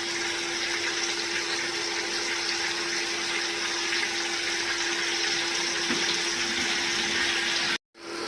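Chicken bhuna frying in a pan gives a loud, steady sizzling hiss that runs unbroken for most of the clip, then cuts off abruptly near the end.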